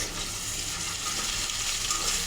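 Onions and shrimp frying in a pan give off a steady, close hiss and sizzle throughout, with no voices.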